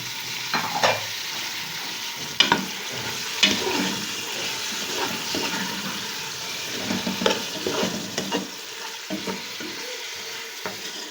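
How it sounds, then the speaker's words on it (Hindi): Half a kilo of beef pieces frying with onion and ginger garlic paste in a pot, a steady close sizzle broken by repeated stirring scrapes and clinks, with no talking. "अब हम इसमें ऐड कर देंगे गोश्त। गोश्त जो है मैंने बीफ का लिया है हाफ़ kg, ये हम इसमें ऐड कर देंगे।"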